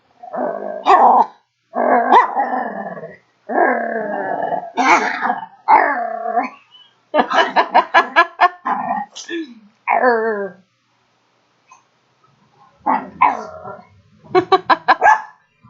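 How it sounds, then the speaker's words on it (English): A dog growls and barks in a run of close, loud bursts, with short pauses and a longer gap near the end before a final volley; a person talks around the vocalizations. "Crazy dog. Yeah, hi. You're crazy. Oh, we're having a growling conversation."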